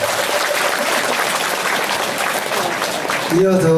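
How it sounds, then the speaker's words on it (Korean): Audience applause at a Buddhist temple dharma talk at Bongseonsa, a dense, steady wash of clapping throughout, with a voice cutting in at the very end. "존경과 감사의 큰 박수를 부탁드립니다"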